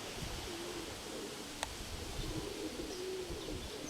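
Pigeons cooing, soft repeated low coos near a pigeon loft with a brief sharp chirp partway through, under a constant outdoor background hiss and no speech.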